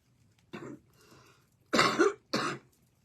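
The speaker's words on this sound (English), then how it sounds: "the cough is much better" A few dry coughs close by: one short cough, then two heavier ones in quick succession.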